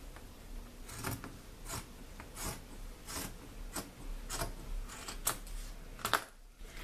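Scissors cut through denim from a pair of jeans folded with hems matched: a steady series of crisp, rasping snips roughly every half second to second, close and fairly quiet, with no talking.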